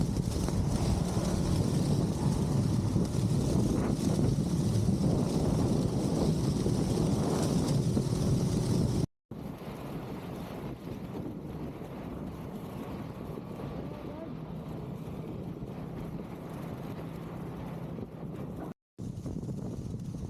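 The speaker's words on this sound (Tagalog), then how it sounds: "Sobrang lakas pa ng hangin" Strong provincial wind in Narvacan buffets the microphone in a loud, continuous roar, cut by two brief dropouts, with no talk over it.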